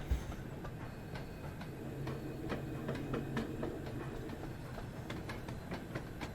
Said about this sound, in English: these sounds of this particular ATF were recorded from 48305 on the Great Central Railway